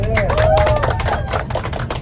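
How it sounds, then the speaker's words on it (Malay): Applause from an audience at an anniversary celebration gathering, dense rapid clapping throughout with a voice speaking over it. "tepukan luar biasa untuk kita semua"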